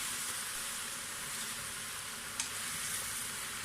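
Chicken feet are stirred in a pan, making a steady, hissing sizzle with faint scraping, loud and continuous, with one brief clink partway through.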